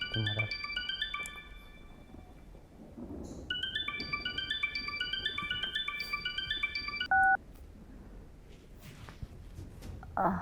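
A phone keypad beeps out a rapid series of dialing tones in two bursts, ending with a short ring tone, while faint voices murmur in the background.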